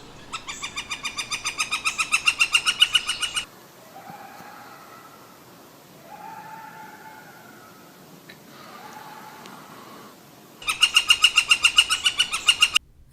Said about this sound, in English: This is a flicker.